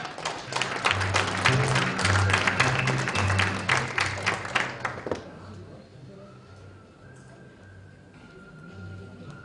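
Audience applause at an inauguration ceremony for the leadership of a Korean horse industry association, a strong burst of clapping over a low hum that stops abruptly midway, followed by quieter room tone.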